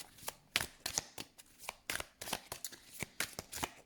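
Tarot cards are shuffled and drawn with a flurry of quick, soft papery flicks and snaps, close and fairly quiet, in an irregular rapid rhythm with no voices.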